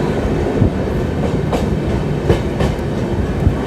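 A South Eastern Railway AC Express, the Yesvantpur–Howrah service, runs near Balasore with a steady, loud rolling rumble and a few sharp clickety-clack wheel knocks over rail joints.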